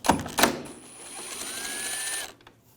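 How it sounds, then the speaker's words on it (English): Screws come out of a 2011–2018 Volkswagen Jetta front bumper with a T30 socket: two sharp clicks, then a short, thin, rising whine from the driver that cuts off. "we're going to take these screws out on the front,"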